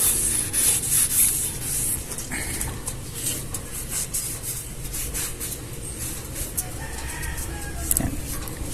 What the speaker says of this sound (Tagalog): una natin gagawin ay pupunasan kasi may alikabok ba, hindi didikit yung pintura